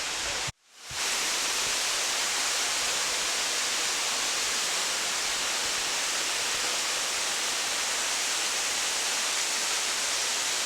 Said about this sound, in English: It's a pretty high waterfall.